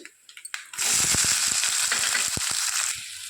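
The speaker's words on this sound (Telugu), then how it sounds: "ఇంకా ఉల్లిగడ్డలు బ్రౌన్ కలర్లో వచ్చే వరకు వేయించుకోవాలి." Onions drop into hot oil with garlic, dried red chillies and curry leaves and burst into a loud, dense sizzle after a few light taps, crackling steadily for a couple of seconds before easing off.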